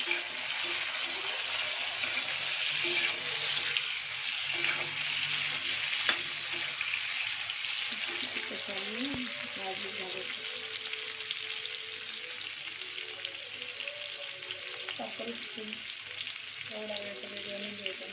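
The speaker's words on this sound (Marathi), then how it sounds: "दोन मिनिट कैरी फ्राय करून घेणार मी।" Raw mango pieces fry in hot oil, giving a steady close sizzle with bright crackling throughout and a few faint stirring scrapes and clinks, and no talking.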